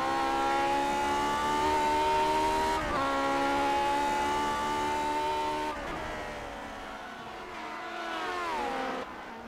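A Lotus 49 race car laps Watkins Glen in Grand Prix Legends, its engine screaming at high revs. The sustained whine climbs and drops through distinct gear changes as the car brakes and accelerates, loud and close throughout.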